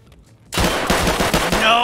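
Gunfire in the video game Escape From Tarkov: after a quiet start, a sudden loud burst of rapid, closely spaced shots hammers on for over a second, near and dense.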